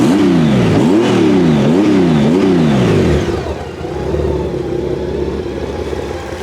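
Motorcycle with a stock exhaust revving close up, four quick rhythmic throttle blips rising and falling, then settling into a steady idle rumble.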